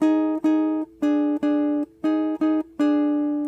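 Two-note jazz guitar chord voicings built from the third and seventh, played as a series of short plucked dyads in a halting rhythm, clear and close with nothing else behind them.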